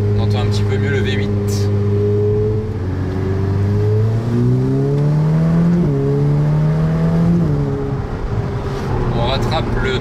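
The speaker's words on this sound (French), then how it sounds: "Là par exemple je suis monté en seconde, on entend un petit peu mieux le V8." Ferrari V8 pulling in second gear on a climbing road above Monaco, loud and near, with engine tones sweeping up through quick shifts and a brief lift, voices faintly underneath.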